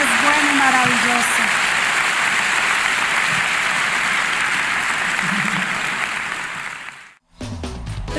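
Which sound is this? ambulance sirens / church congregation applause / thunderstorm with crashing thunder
church congregation applause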